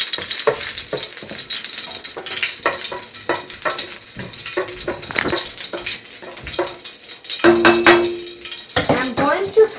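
A bay leaf drops into hot oil and fries with a steady crackling sizzle, broken by stirring scrapes and clinks of utensils close by, with no one speaking.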